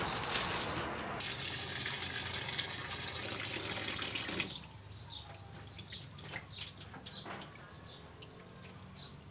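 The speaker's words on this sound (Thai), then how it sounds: "ขั้นตอนแรกก็นําลูกตาลนะคะเอามาล้างน้ําให้สะอาดก่อนที่เราจะปอกเปลือกนะ" Palm fruits are washed under running tap water, a steady close gush with splashing for about four seconds, then the flow stops and soft drips and handling sounds follow.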